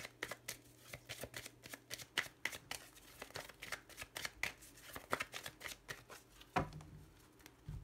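Playing cards shuffled repeatedly during a Lenormand tarot reading, a rapid run of crisp riffling flutters and slaps, close and fairly quiet, with a few cards spilling out near the end.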